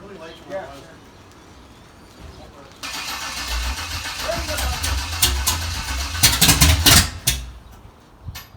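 Car engine cranked by a starter that may be overheating, followed by the engine firing and running unevenly with loud bursts, close by, with quiet talk nearby.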